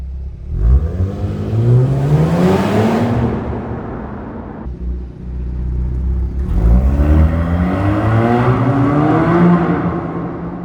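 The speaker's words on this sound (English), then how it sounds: "louder and more aggressive sounding than the stock exhaust in Sport Plus mode, which you can hear for yourself in these clips" A Genesis G70 with a Borla exhaust in Sport Plus mode accelerates hard twice. Each pull is a loud rising growl that climbs in pitch, with a short lull between them.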